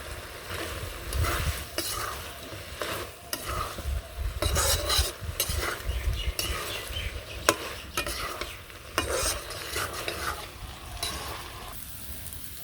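Chorchori with garlic paste being stirred and fried in a pan on a village clay stove, a steady sizzle broken by repeated scraping strokes of the spoon against the pot, close and fairly loud with no talk.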